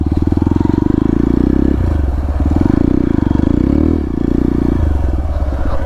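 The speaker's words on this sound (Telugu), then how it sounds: "దీనికి సౌండ్ చూడండి, ఎగ్జాస్ట్ మార్చాడు" A Hero Xpulse 200 4V motorcycle with a modified exhaust throbs loudly up close, rising and falling through repeated revs, its low engine pulse dominating throughout.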